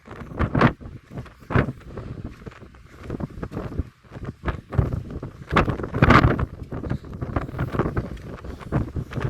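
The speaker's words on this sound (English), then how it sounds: "the wind is kicking up here" Strong gusting wind buffets the microphone at Guano Point, a lookout over the Grand Canyon, with loud irregular rumbling bursts that rise and fall throughout.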